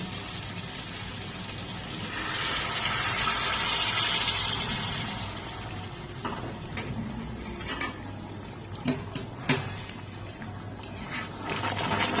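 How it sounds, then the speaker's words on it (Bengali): Hot water is poured into chicken kosha cooking in a pan, a steady rushing pour that swells and then fades, followed by scattered clinks of utensils against the cookware. "এবার আমি এর মধ্যে একটু পরিমাণ মতন গরম জল দিয়ে দিচ্ছি"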